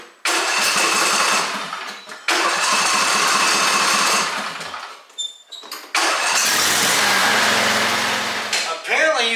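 The engine of a Craftsman T3000 riding lawn mower cranks and tries to start in several loud bursts with short pauses between them, then catches and runs briefly, ending in a sputtering rise.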